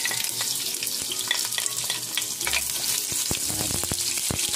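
Onions frying in a pan for beef menudo, a dense continuous sizzle with sharp crackles and a few clanks of a utensil stirring near the end, no talk.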